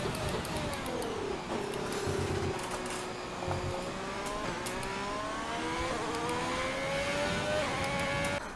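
A Formula 1 car engine in F1 2020 revs hard with rising pitch sweeps broken by quick manual gear shifts, loud and continuous, while someone talks over it.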